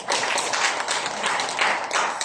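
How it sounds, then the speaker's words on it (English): Audience clapping during a business presentation, a dense patter of hands with a few sharper individual claps standing out, steady and fairly close, heard on its own without talk. "Give yourself a hand of applause"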